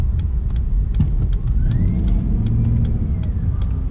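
Steady low rumble of a 700-horsepower Shelby F150 Tonka Edition pickup with a Whipple supercharger, heard from inside while driving, loud and constant with faint ticking and whine above.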